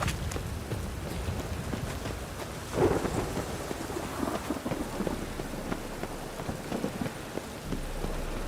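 Rain and thunder over Novigrad in The Witcher 3, a steady downpour hissing throughout with a louder rumbling thunder swell near the three-second mark, no voices present.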